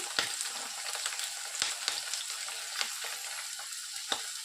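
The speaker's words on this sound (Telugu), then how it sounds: "పచ్చిమిర్చి కాస్త వేగాక చూడండి కట్ చేసి పెట్టుకున్నటువంటి ఆనియన్స్ని వేసేసుకోవాలి" Green chilies and onions fry in a pan for gobi fried rice, giving a steady close sizzle with occasional stirring scrapes and pops. No talking.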